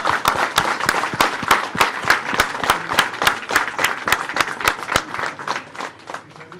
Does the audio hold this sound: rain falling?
no